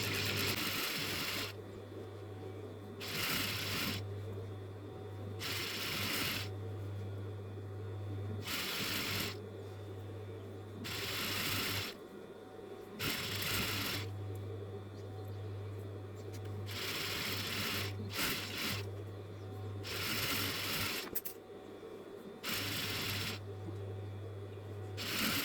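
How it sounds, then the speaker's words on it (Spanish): A sewing machine stitching around the neckline of a crop top runs in short repeated bursts of rapid mechanical clatter separated by brief pauses, fairly quiet and close, with no speech. "Sigo cosiendo en todo el contorno del cuello de la misma forma."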